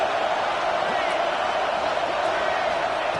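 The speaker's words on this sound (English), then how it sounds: "And here comes the noise. This crowd is trying to inspire this defense to make a big red zone stop." A football stadium crowd at a Longhorns versus Bulldogs game roars as one dense, steady wash of noise, loud and unbroken with no distinct voices standing out.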